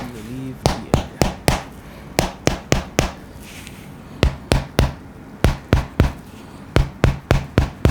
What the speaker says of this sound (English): Light hammer taps.